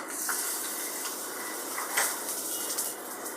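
A tempering of mustard seeds and sesame seeds in hot oil gives a steady, even broadband sizzle and hiss throughout, with a few faint crackles standing out near the middle.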